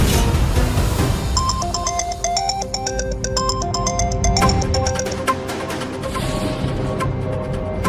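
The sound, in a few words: telephone ringtone ringing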